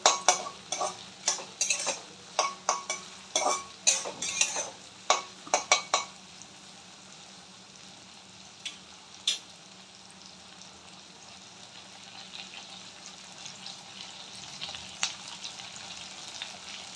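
A fish head fries with ginger garlic paste in a pan, with a run of sharp spatula scrapes and clinks over the first six seconds, then a quieter steady sizzle with only occasional stirs.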